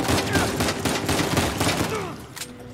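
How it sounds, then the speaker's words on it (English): Rapid gunfire bursts in Uncharted 4, including shotgun blasts, crackle in a dense, loud volley of overlapping shots that eases off near the end. "He's got a shotgun."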